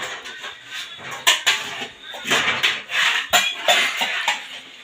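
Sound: handing over and stacking kitchen utensils, pots and pans

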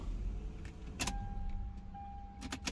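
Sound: Lexus GS300 car being switched off with key

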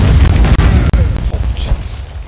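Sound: bomb explosion in the video game Conan Exiles

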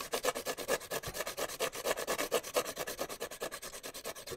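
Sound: sharpening a drawing implement's point on sandpaper

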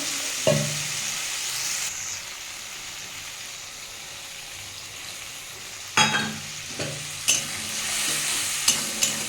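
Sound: tomato and spice paste frying in pan

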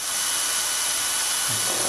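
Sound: drilling through a sleeve bleed hole into a shaft with a 5 drill bit

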